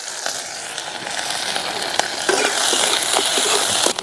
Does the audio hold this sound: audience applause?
no